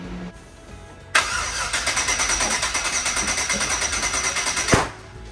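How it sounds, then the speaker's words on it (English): An AWD Foxbody Mustang engine roars up suddenly and runs loud with a rapid, choppy pulsing for several seconds, then cuts off with a sharp crack-like burst near the end, heard up close with no talking. "Backfire."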